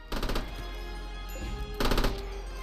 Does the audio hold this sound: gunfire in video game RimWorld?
yes